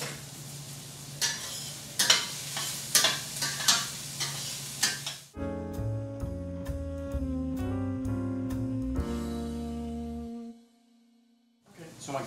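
Onions for artichoke dip are stirred in a pan, a soft sizzle with a run of sharp utensil scrapes and knocks for about five seconds, then the sound gives way to music.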